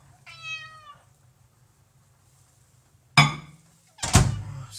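A pet cat in a home kitchen gives a single wavering meow, followed a couple of seconds later by two sharp thunks of something being set down, one soft and one heavier.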